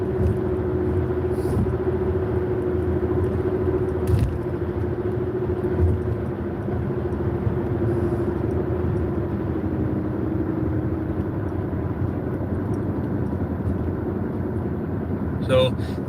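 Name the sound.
car driving on rural road and highway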